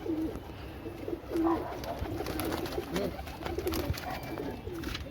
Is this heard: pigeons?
yes